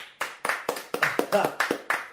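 One person clapping at an awards show, about nine distinct, sharp handclaps at a fairly even pace, close by and alone, with no crowd joining.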